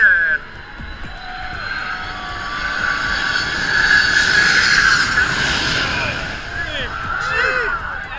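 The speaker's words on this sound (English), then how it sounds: "Watch the heart-pounding landing of a KLM Boeing 747 at Maho Beach." A KLM Boeing 747 lands low over Maho Beach. The loud, sustained jet roar and high engine whine swell as it passes close overhead, with people's voices faintly beneath.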